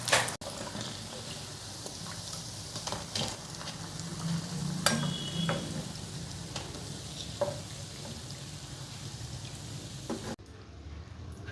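Onion bajji fritters deep frying in hot oil, a steady low sizzle and bubbling that runs for several seconds with faint kitchen clatter, then drops off abruptly near the end.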